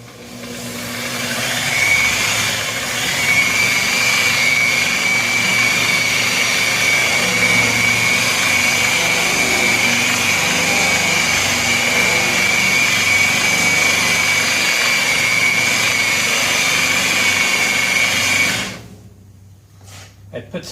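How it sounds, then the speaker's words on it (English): An electric polisher buffs the patina paint of a 1966 Ford F100 with a steady, loud whine and an even whirring drone that runs unbroken for about eighteen seconds, then cuts out abruptly near the end. "So let's commence the polishing."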